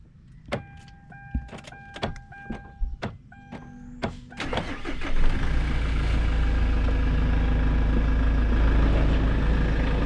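A car engine starts after a few clicks and thumps, then settles into a steady, loud idle close by.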